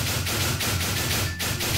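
Rapid, dense bursts of blasts from an RPG with no cooldown, fired nonstop in Minecraft with a Fortnite mod, running back to back in a loud, steady barrage with no pauses.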